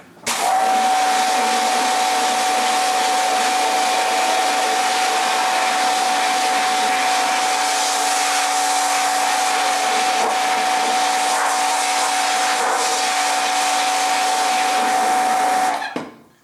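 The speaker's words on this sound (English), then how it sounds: "Make sure you have your screen balanced for pressure washing, otherwise it'll flap all over in here." A pressure washer sprays a screen-printing screen during haze and stain removal, a loud steady hiss and roar that runs unbroken for about fifteen seconds before cutting off.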